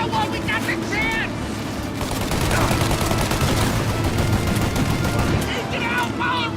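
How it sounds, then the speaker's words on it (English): Rapid gunfire in a shootout from the video game Mafia, with dense overlapping bursts and shots running through the whole stretch, loud and close, while voices shout over the firing. "Shoot out your gun when there's a break in the fire!"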